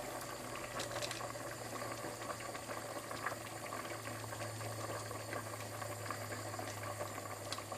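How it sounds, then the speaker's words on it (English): A pot of vegetable soup bubbles and simmers quietly and steadily, with soft continuous popping over a low, constant hum. "You can hear it bubbling away"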